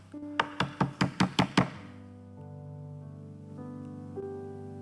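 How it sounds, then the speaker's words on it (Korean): Seven quick, evenly spaced raps hit a door, loud and sharp, followed by sustained background music that continues alone after the knocking stops. "근데 또 문을 두들깁니다."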